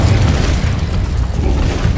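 An Incendio fire spell in Hogwarts Legacy, heard as a dense, continuous roaring whoosh with a deep rumbling low end, loud and unbroken throughout without any pauses.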